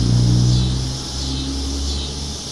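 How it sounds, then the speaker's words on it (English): A loud truck passes close by with a steady, heavy rumble and a roar that swells at first and then eases slightly, filling the whole moment with no voices. "is an obnoxiously loud truck"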